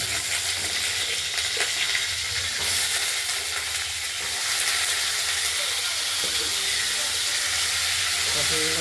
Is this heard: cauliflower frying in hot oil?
yes